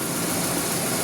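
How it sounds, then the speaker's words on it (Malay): A car engine runs at a steady, even drone after about 30 km of highway driving with Cycopro added and the air conditioning off, heard from inside the car with no talk. "Ini bunyi enjin selepas kita jalan dekat 30 kilo."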